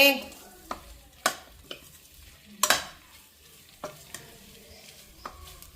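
Stuffed eggplant curry simmers softly in a pan, a faint low sizzle broken by occasional sharp clinks and scrapes of a utensil against the pan.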